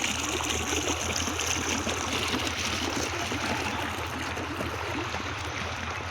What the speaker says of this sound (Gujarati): 3ની મોટર છે, એમાં 2 વોટર પૂરેલા છે, અત્યારે આટલું પાણી કાઢે છે